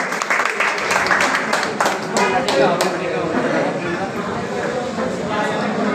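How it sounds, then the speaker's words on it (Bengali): Audience clapping at a pigeon club award ceremony, a sustained loud round of applause with sharp individual claps, with a voice talking over it. "একটা জোরে করতালি হোক"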